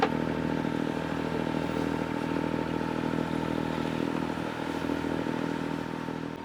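Sailing boat's inboard engine running steadily as it leaves moorings at Yarmouth, a continuous close mechanical drone with a low throb and faint clatter, no talking.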